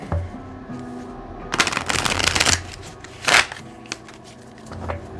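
A No Name Oracle card deck is shuffled in two quick riffled bursts of crisp, papery fluttering, close by, with a few light taps and card handling between them.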